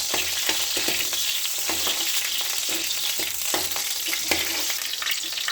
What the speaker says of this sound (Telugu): పచ్చిమిర్చి వేయించుకోవాలన్నమాట. కొంచెం ఆయిల్ యాడ్ చేస్తున్నామండి